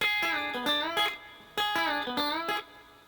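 A twangy electric guitar lick plays alone, notes bending up in pitch in two similar phrases, with crisp picked attacks and short pauses.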